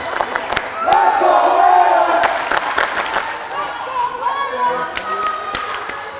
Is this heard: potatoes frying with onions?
no